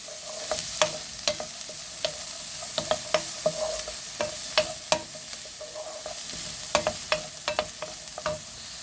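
A Chinese-style chicken dish sautéing in a pan, with a soft sizzle under a string of sharp clinks and scrapes as a utensil stirs it at an irregular pace.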